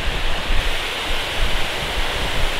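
The abundant water of a rushing mountain stream in Piagol Valley roars continuously and close, a dense, steady hiss with no talk over it.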